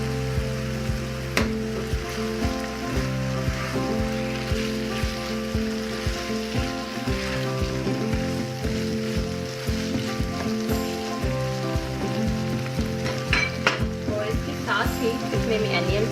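Bell peppers sizzling in a pan, a steady dense crackle of frying throughout with repeated low knocks of stirring, close and fairly loud.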